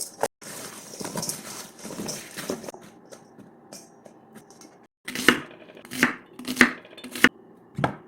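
A knife cuts cabbage and vegetables for cabbage water kimchi against a board in sharp, irregular chops, sparse at first, then a quicker run of louder thwacks near the end, with quiet gaps between.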